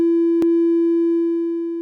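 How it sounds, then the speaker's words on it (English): An ALM031 Tyso Daiko dual wavetable drum voice Eurorack module holds a pure, clean sine-like tone with a long release. One sharp click breaks in early, and the tone then sustains alone, fading gently near the end. "The envelope has a characteristically snappy sound tailored to creating percussive hits."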